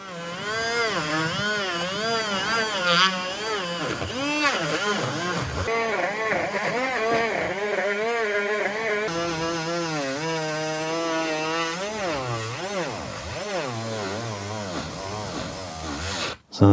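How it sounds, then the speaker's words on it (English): A Dremel fitted with a cut-down abrasive wheel polishes a Kawasaki ZX9R cylinder head, its whine rising and falling in pitch as the load changes, close and continuous with a brief stop at the end. "cut down this abrasive wheel so that it actually fits in there, and just polish it even more"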